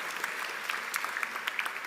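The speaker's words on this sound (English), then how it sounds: "can we get a shout out and a clap for our parents who are sitting here as well for us?" A graduation audience applauds for parents in the seats at a high school commencement, a steady, fairly faint wash of many hands clapping throughout with no talk.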